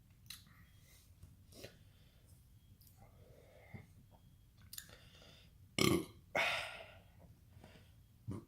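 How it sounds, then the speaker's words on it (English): Several burps after drinking homemade pumpkin milk stout, quiet at first, then two loud close belches near the end amid soft breathing and mouth noises. "Burping like I'm shooting a malt liquor video."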